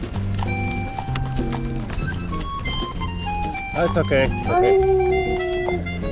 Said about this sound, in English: Oh, beautiful horses.